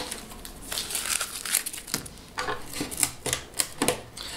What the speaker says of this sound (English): then you're ready to take the tape off and take the Teflon strips out